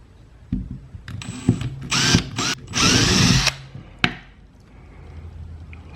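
A power drill bores a hole through a plastic trimmer head cap backed by a sacrificial piece of wood: several short bursts of whirring, then a sustained loud drilling run that ends with a sharp knock, all close and with no talk.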